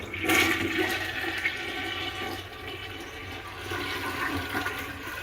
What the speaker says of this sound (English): we got a flushing toilet.